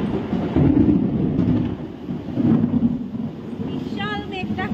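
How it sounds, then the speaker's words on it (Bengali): Deep, steady thunder rumbles through a rainstorm, a broad low roar that swells and eases across the whole stretch with a brief higher chirping near the end. "বিশাল মেঘ ডাকছে, আর এরকম হচ্ছে, বিদ্যুৎ চমকাচ্ছে।"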